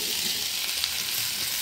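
Vegetables fry in a pan with a steady, hissing sizzle, quiet and close, as they are stirred. No one speaks.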